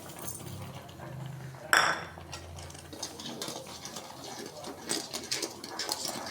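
Milk and sugar being stirred in a pot for rabri: soft, steady scraping and swishing with one clear metallic clink early on, then light intermittent taps of the spoon against the pot.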